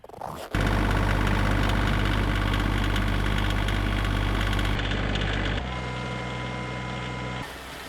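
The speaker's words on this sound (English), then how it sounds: "The tractor is probably warmed up." A tractor sits idling while it warms up in deep winter cold, a loud, steady low drone with a constant mechanical hum that drops slightly in level partway through and keeps running.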